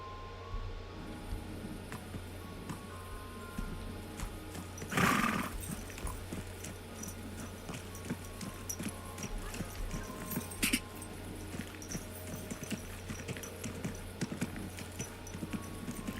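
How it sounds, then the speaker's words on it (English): A horse in a video game gallops with steady hoofbeats over continuous game ambience, and a loud whinny bursts out near the middle with a shorter cry later. "Horsey can get a little faster"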